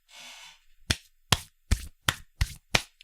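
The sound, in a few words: hands wiping together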